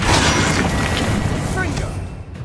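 A Confringo fire spell explodes in Hogwarts Legacy, a loud booming blast with crackling debris that rolls on for a couple of seconds and then fades, with a voice speaking over it.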